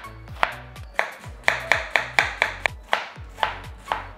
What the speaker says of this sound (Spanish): pasamos a cortar en corte cuadradito